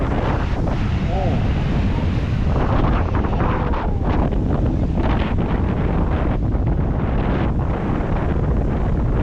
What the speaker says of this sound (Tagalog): Ano ba itong mga alon dito?